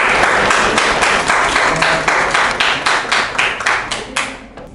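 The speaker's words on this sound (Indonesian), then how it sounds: "Tepuk tangan buat temennya." Students clap for a classmate after a Quran recitation in a class session, a loud, close group of hands beating in a fairly regular rhythm that tapers off and fades near the end.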